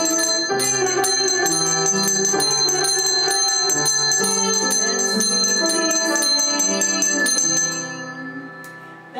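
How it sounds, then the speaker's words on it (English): Small handbells ring steadily and loudly at a children's Sabbath school gathering, their bright, sustained tones layered over singing and fading toward the end. "Let's ring our bells while we sing"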